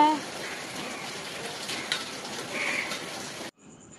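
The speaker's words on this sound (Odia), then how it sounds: "ଏଇରେ ବର୍ଷା ହେଉଛି ପାପା।" Evening rain falls outside a balcony, a steady soft hiss of drops on surfaces that continues evenly before cutting off abruptly near the end.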